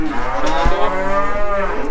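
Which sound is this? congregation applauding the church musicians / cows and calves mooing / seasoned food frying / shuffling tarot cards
cows and calves mooing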